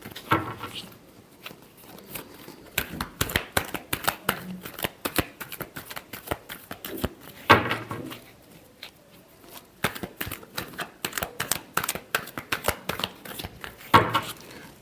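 Tarot cards are shuffled by hand in a long run of quick, crisp riffles and slaps, steady and close, with brief pauses between bursts.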